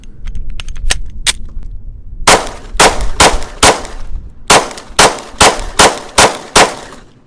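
A Mossberg MC2C pistol fires SIG 124-grain hollow points in about ten sharp, loud shots, spaced unevenly at first and then in a quick regular rhythm, with faint clinks of brass between them.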